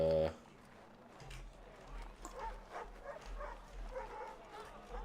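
A dog in the Assassin's Creed 3 video game gives a short series of barks and yips over low game ambience, moderately loud, following a brief opening tone.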